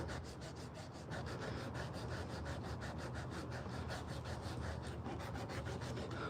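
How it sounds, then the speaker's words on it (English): Continuous rasping strokes of sandpaper worked over a hand-carved wooden spoon, a steady back-and-forth rhythm close up and fairly loud, with no talking. "It'll take a while to sand this thing down, but that's all right."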